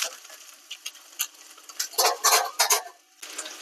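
Ginger frying with urad dal in a pan makes a soft, crackling sizzle, broken by a few scraping stirs near the end. No one speaks.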